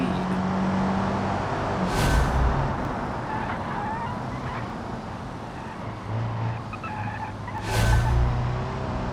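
Tires skid and squeal in bursts as a car's rear end kicks out under hard throttle in BeamNG, two sharp broadband screeches over a steady engine drone, with no talking.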